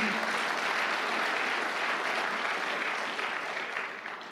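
Applause at a church service during a preaching session, dense continuous clapping that stays loud, then gradually thins and fades toward the end.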